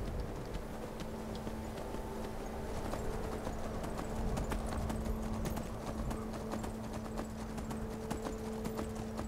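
Horse hooves clip-clop steadily along a road in the Skyrim video game, a continuous rhythmic trot over a low steady game soundscape, with an occasional faint whinny.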